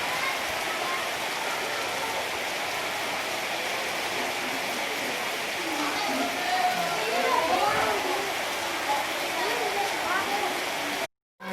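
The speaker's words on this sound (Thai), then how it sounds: "ฝนตกน้ำคักน้ำคัก" Heavy rain pours steadily in a dense, hissing wash at a school, with faint voices underneath; the sound cuts off abruptly near the end.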